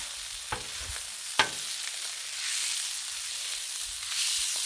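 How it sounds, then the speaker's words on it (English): Hot dogs sizzle on a griddle in a steady, close hiss of frying, broken early by a couple of sharp scraping clicks of a utensil rolling them, with no voices. "And there's the griddle. And this stuff's cooking pretty quick."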